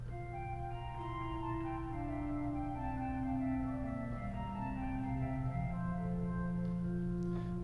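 A 4-foot Waldflute stop on the pipe organ at Old St. Patrick's Cathedral in New York City, played alone: a soft, steady melodic line of held notes over a quiet sustained bass, gently reverberant.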